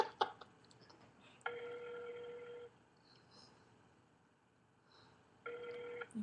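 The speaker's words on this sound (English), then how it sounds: "that's me dialing" A home telephone being dialed gives off a few sustained tone beeps separated by quiet gaps, heard faintly at moderate distance, along with small clicks at the start.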